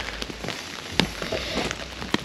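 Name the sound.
rain falling at a rally stage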